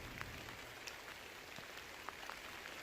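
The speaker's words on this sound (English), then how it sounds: "You can see it's pouring down rain." Heavy rain pours steadily outside an abandoned 1855 shooting lodge in Sheffield, a dense, even hiss with faint scattered drips and no voices.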